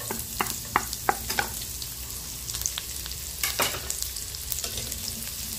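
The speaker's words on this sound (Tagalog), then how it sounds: "Igisa natin ang ating onion at garlic." Onion and garlic sautéing in hot cooking oil in a pan, a steady close sizzle with scattered crackles and stirring scrapes throughout, no voices.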